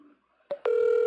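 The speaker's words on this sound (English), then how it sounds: "Oh, it's ringing." On an outgoing telephone call, a couple of short clicks come first, then a steady ringback tone that starts and holds loud and clear.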